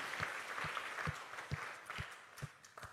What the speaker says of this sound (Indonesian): Beri tepuk tangan bagi Yesus.